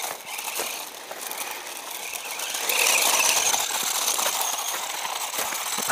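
A cheap GP Toys S912 Luctan 1:12 scale 2WD brushed-motor RC truggy runs flat out over gravel, its thin high motor whine and grinding gear chatter holding steady and swelling louder partway through, with stones crunching under the tires.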